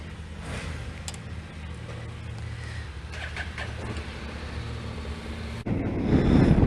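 A motorbike engine idles steadily on a wet, windy day out in the Yorkshire Dales, a low continuous rumble that grows louder and rougher near the end, with no talking.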